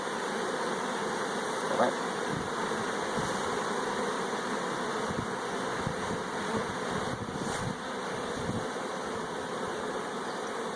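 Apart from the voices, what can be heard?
swarm of honey bees buzzing around hive boxes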